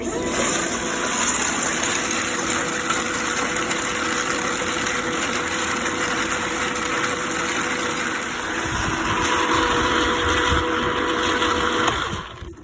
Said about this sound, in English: Slap that bad boy up on the tumbler